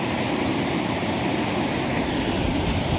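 Loud, continuous roar of rushing floodwater in the swollen Singarayipalli stream, dense and unbroken, with no voices heard.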